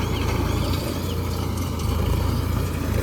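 A Solis 4515 tractor-driven baler with something jammed runs loudly and roughly nearby, with a heavy low engine drone and uneven rattling and knocking throughout.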